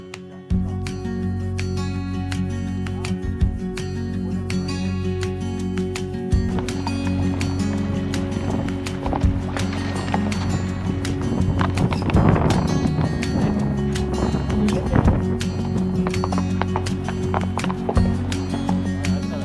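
Steady clip-clop of a young horse's hooves plodding along a wilderness mountain trail, with a constant low hum and rustling in the background.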